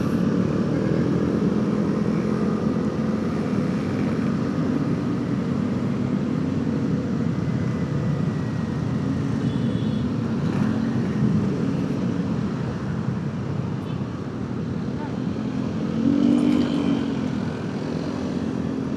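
A motorcycle rides along a Jakarta city road with scattered sand and small gravel, its engine droning steadily at moderate distance with a brief surge of throttle near the end.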